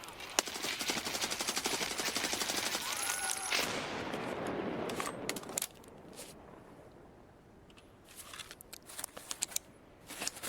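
Rapid bursts of automatic gunfire crackle in Escape from Tarkov, loud and dense through the first half, then thinning into scattered, sharper single shots and short volleys.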